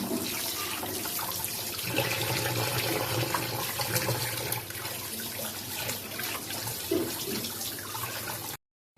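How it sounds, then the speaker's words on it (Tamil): Running tap water splashes steadily while fish is washed in a home kitchen, a continuous close rush of water that stops abruptly near the end. "அம்மா மீன் கழுவி எடுத்துட்டாங்க"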